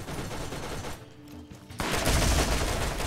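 Rapid bursts of automatic turret gunfire in a video game, a dense fusillade that dips briefly then returns louder and sustained.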